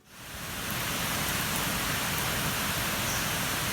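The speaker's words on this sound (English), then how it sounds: "Tuesday we had lots of rain, almost 24 hours of rain." Steady, dense rain pours down at a campground pavilion near Gatlinburg, Tennessee, a continuous even hiss with no voices over it.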